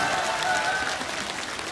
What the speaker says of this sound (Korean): 이럴 때 박수 한번 쳐야 되는 거 아니에요?